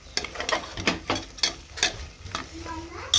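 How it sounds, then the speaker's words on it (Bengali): Mutton with spices and potatoes frying in a pan while being stirred, with a sizzle under repeated scraping strokes of a spoon and a voice talking over it. "আমাদের জন্য মাটন সব রকম মশলা আলু দিয়ে কষানো হচ্ছে"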